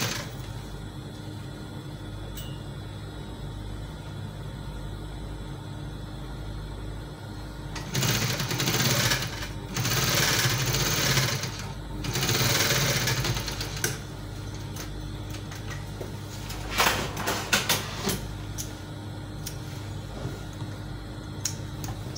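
A sewing machine stitches a V neckline on fabric about half an inch from the edge, its steady mechanical hum running throughout and swelling into louder, faster bursts of stitching in the middle and near the end.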